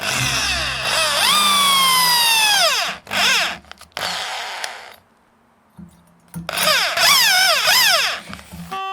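A power drill fitted with a drill bit drills a hole while an air fuel ratio gauge is being fitted. Loud whining motor bursts rise and fall in pitch, with brief pauses and a quiet gap between runs.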